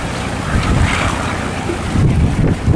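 A Lagi fishing boat pounds through the waves toward the harbor mouth at Bình Thuận, with loud, steady wind buffeting the microphone over rushing surf and the boat's rumbling motion, and no one speaking.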